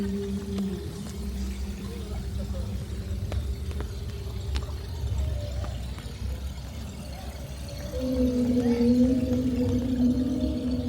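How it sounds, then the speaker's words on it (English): Low, drawn-out whale moans sound over a steady background rumble in New York City, with a louder, sustained tonal call swelling toward the end. "It's a whale, Logan."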